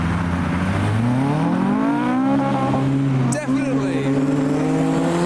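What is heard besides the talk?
Volkswagen Jetta with naturally aspirated Honda K20 engine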